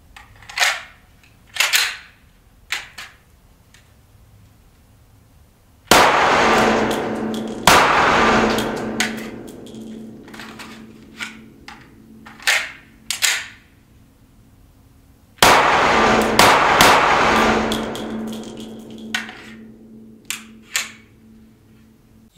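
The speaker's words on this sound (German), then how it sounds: "Einerseits haben wir da eine Pistole, die ein Hochgeschwindigkeitsgeschoss verschiessen tut" An FN Herstal Five-seveN pistol firing high-velocity rounds at a range, with loud, sharp shots alone, in irregular singles and quick bursts, some ringing out with a long echo.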